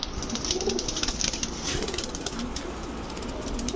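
Dhakaiya Maxi Giribaz pigeons, both males and females, coo in soft repeated low calls across a loft, with a brief flutter of wings and no talk.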